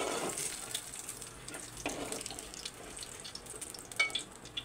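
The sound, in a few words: garlic frying in oil for mutton fry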